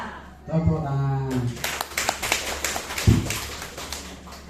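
Following a speaker's voice, a seminar audience breaks into clapping, a dense patter of hand claps with a few sharper hits, steady and moderately close, tapering slightly toward the end.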